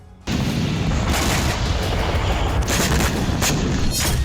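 War footage from Ukraine carries loud, dense explosions and artillery blasts that erupt suddenly and roll on continuously as a heavy rumbling barrage, with no talk.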